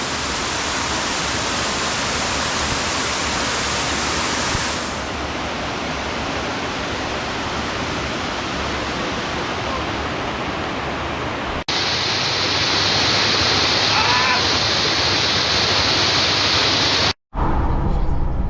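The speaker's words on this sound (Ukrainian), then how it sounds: "Водоспад Труфанець у всій своїй красі." Steady, powerful roar of the Trufanets waterfall in the Carpathians, a dense rushing wash that continues without pause before cutting off abruptly near the end.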